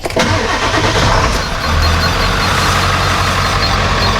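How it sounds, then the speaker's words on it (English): A 1995-97 Ford pickup with a 7.3L Powerstroke diesel cranks and fires up, then settles into a loud, close diesel idle. No one speaks. "So we'll go ahead and start the truck."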